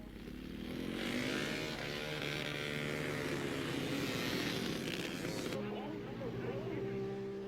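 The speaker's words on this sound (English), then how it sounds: "From a vantage point at a hairpin bend known as the Devil's Elbow, we view the 250cc bikes in action." 250cc racing motorcycles on the Leitrim Village road course in 1986, rounding a hairpin bend with loud, close engine howls that rise and fall through the gears as bikes pass in quick succession, while someone narrates over them.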